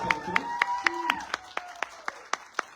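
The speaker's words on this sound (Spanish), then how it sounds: "yo les pido un aplauso para Jessica Jaimes y todo el equipo de" Audience applause for an organizer and her team at a talk and concert event: about a dozen distinct, evenly spaced claps ring out over a thin spread of clapping, with a voice speaking faintly underneath.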